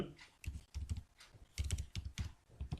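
Python code being typed on a computer keyboard: quick, close bursts of key clatter in uneven clusters, with no voice over it.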